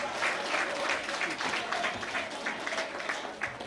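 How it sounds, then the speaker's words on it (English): An audience at a home handing-over ceremony in Grand Bay claps steadily for an honorable guest, a dense, sustained round of applause with a few voices mixed in. "Let's give Honorable Reginald Austria a round of applause."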